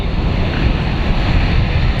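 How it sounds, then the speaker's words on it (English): Kawasaki P-1 maritime patrol aircraft with Japanese-made XF7 jet engines flying at an air show, a loud, continuous broadband roar with a steady rushing quality and no talk. "The XF7 engines, also made in Japan, developed specifically for the P-1."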